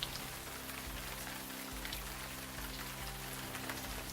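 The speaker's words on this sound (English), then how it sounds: "the rain has really set in now" Steady rain falling on a lake during cold-weather pike fishing, a constant close hiss of drops with no pauses and no voices.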